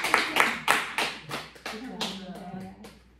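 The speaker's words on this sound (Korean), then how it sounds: "우리가 축하 박수를 좀 나눠드리도록 하겠습니다." A church congregation at Sunday worship claps to welcome a newcomer, starting with distinct sharp claps in a quick rhythm that grow softer and looser as a voice begins speaking over them.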